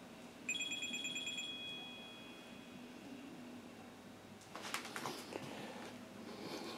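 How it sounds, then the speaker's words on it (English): A smartwatch rings for an incoming phone call, giving a short burst of bright repeated electronic beeps near the start, followed by room noise and some handling rustle. "That was my watch going off. Got a phone call"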